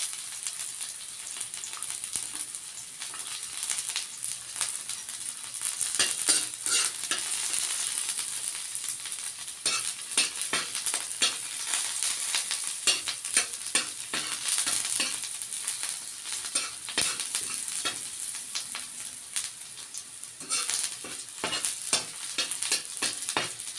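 Ginger and garlic frying in a little cooking oil: a continuous bright sizzle with frequent spatula scrapes and stirring clicks throughout, fairly close and steady, with no voices.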